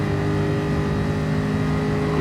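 Race car engines in Gran Turismo Sport at the Dragon Trail Seaside circuit, a loud continuous droning roar held at high revs, close and steady without pause or voices.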